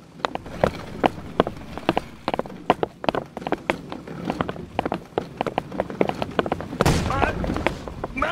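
Cannon fire in a naval battle in the multiplayer game Holdfast: Nations at War, with sharp booming shots in an irregular rapid series over shouting crew voices, rising to a heavier blast near the end.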